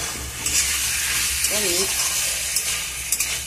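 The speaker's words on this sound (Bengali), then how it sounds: "একটুখানি ভেজে নেব" Food with tomato paste frying in a pan, a continuous close sizzle with small stirring scrapes and a brief bit of speech.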